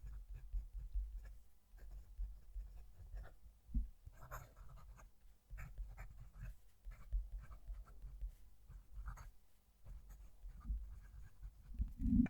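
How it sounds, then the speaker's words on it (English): A fountain pen with a Schmidt nib scratches out a sentence on paper, faint close-up strokes in short bursts with brief pauses between words. "Let's move the mic and write a sentence."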